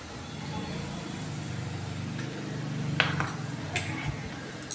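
Spoon stirring carrot rice with turmeric in a pan, giving a few light scraping clinks over a steady low hum, with a couple of sharper taps near the end.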